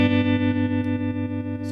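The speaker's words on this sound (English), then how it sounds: "I love the combination of the reverb with the vibrato trem effect" Sustained chord from a guitar through a Fender '65 Deluxe Reverb reissue amp, its reverb and vibrato trem pulsing the tone in a steady, wavering rhythm, loud and close with no talk.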